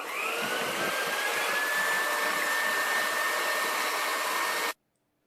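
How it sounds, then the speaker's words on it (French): Electric mixer whipping egg whites to stiff peaks for a chocolate mousse charlotte: a loud, steady motor whir with a slowly rising whine runs nearly five seconds, then cuts off abruptly into silence. "Et je monte mes blancs en neige très ferme."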